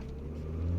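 A BMW M3 E36 with a 3-liter engine accelerates while driving, giving a close, steady low rumble that swells slightly over under a second, with no talking.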